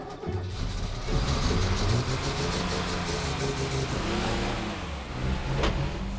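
A 1980s Mercedes 230 S petrol engine fires up and is revved, a loud, steady mid-pitched roar that swells and holds with slight rises, close by and without talk.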